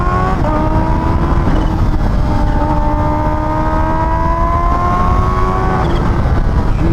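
A motorcycle engine drones steadily while someone rides it calmly in traffic, loud and close throughout, its pitch rising and falling gently with the throttle.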